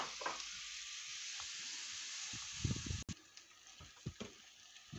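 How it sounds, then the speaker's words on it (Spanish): Onion dropped into a hot pan and frying to soften, a steady bright sizzle throughout with small clinks and stirring knocks, close and moderately quiet. "Venga, ahora, aquí, directamente, la cebolla. Para adentro. Venga, la pochamos."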